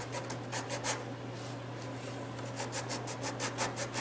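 A thin guitar side clamped to a bench against a wooden guide is trimmed to length with rapid, rhythmic rasping strokes. The cutting is close and steady, with a constant low hum underneath.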